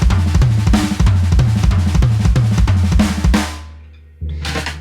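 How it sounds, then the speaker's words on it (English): A loud drum fill repeats a right, left, left, kick sticking in rapid strokes around the toms, each group marked by a low kick thump. The kit is close and punchy, then cuts off and a final hit rings out. "this really powerful, really useful combination of right, left, left, kick"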